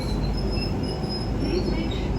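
A train idles at a Southeastern station platform on the Sandwich via Dover Priory service, giving a steady low rumble and hum with faint high whines throughout, with no talk.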